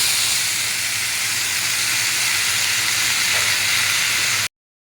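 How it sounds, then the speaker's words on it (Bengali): Boiled bottle gourd hits a hot wok of five-spice seeds and dried red chillies, setting off a loud, steady, close-up hiss of sizzling oil that runs unbroken, then cuts off abruptly. "এরপর আমি সেদ্ধ করা লাউটা এর মধ্যে দিই।"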